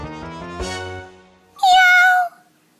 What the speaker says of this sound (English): That's right, a cat.